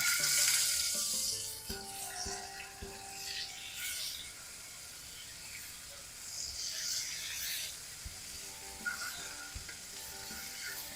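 Fresh salt-and-peppered scallops fry in a hot pan, a steady hissing sizzle with a few soft clicks and taps as they are placed and moved.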